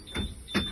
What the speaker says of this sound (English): to close the door, turn the key on to stop the alarm